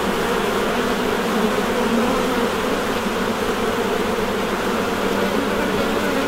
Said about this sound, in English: It's a very active hive, but they're not coming at me.